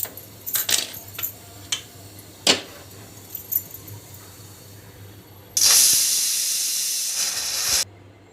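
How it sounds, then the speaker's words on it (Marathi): A pressure cooker of dal on a gas stove at medium flame lets out a loud, steady steam whistle lasting about two seconds near the end, after several sharp clinks and hisses. "कुकरला झाकण लावून आपल्याला याला मध्यम आचेवरती 3 शिट्या काढून घ्यायच्या आहेत आपल्याला"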